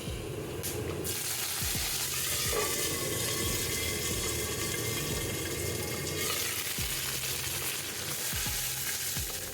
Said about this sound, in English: Next, I am going to saute the above ingredients in a 2 tablespoons of coconut oil to make a ground paste.